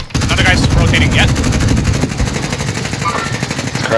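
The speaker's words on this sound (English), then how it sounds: "Oh, he's shooting!" Rapid, continuous gunfire from a first-person shooter video game fills the clip, loud and dense with bursts of automatic fire. Players talk faintly underneath.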